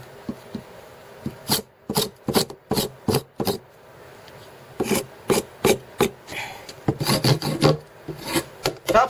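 A blade scrapes bark off a wooden walking stick, with a series of close, sharp rasping strokes in an uneven rhythm that come in quick clusters with brief gaps and no speech.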